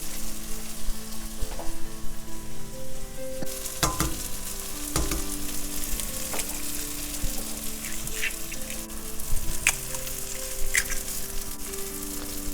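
Spicy spinach fried rice sizzles and crackles steadily in a pan after an egg goes in, with a louder burst of frying and scattered clinks of stirring throughout.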